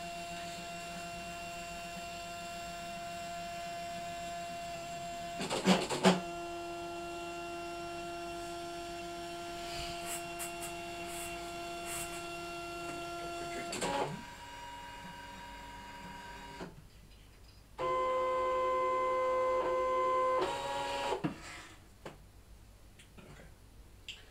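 A Brother ScanNCut CM-series cutting machine cuts a calibration cross, giving a steady whirring motor drone with humming tones, a few sharp clicks, and short pauses before the motor starts up again.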